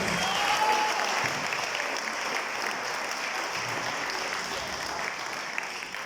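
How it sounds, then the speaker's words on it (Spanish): An audience at a tourism panel discussion applauds in a broad, sustained wash of clapping that starts fuller and slowly tapers across the whole stretch, heard from within the hall. "Un aplauso para todos ustedes."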